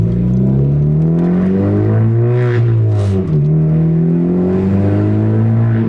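A Honda Civic Type R (FK8) engine revs hard and climbs in pitch, briefly dips as it shifts, then pulls up again, loud and close.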